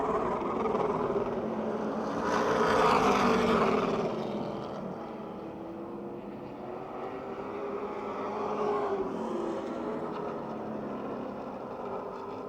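Race cars at Motordrome Speedway run side by side down the back straight, their engines a continuous droning roar that swells loud as they pass, then fades and rises again.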